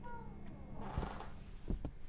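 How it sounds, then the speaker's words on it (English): In a video game, a short cry that could be a baby or a cat wails twice over steady background game noise. "I assume that was a baby and not a cat"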